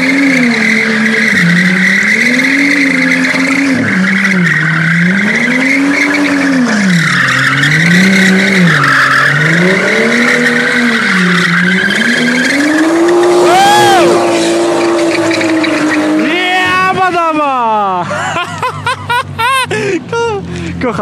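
A BMW M2 drifts sideways on Warsaw streets, its engine revving up and down while a loud, sustained tire squeal runs close throughout, ending in choppier skids with people talking.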